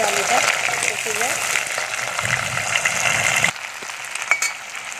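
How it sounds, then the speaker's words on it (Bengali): Potatoes fry in hot oil with a bright, continuous sizzle and occasional stirring. A voice speaks over the frying early on, and the hiss drops to a quieter level near the end. "আমি আলুগুলো দিয়ে নেবো তেলের করে, কারণ যাতে তেলের মধ্যে আলুটা কষে যায়।"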